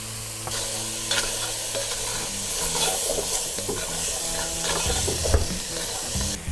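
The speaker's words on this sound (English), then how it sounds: "The smells coming out of this pot with the garlic and the rosemary and the pork fat and just the onions" Onion, garlic and rosemary frying in pork fat in a pot, a steady close sizzle and hiss with stirring scrapes, heard alone over a continuous low background.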